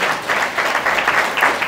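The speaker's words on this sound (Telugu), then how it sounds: "క్లాప్ కొట్టండి" A church congregation claps through a Telugu Sunday sermon, a dense, steady wash of many hands that stays at the same fairly loud level for the whole moment with no voice over it.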